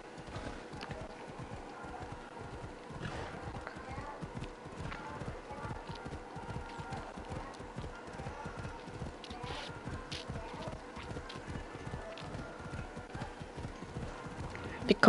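Rhythmic hoofbeats of a horse galloping in Assassin's Creed Odyssey pound steadily throughout, with occasional whinnies and game ambience, fairly quiet and continuous beneath intermittent background sound.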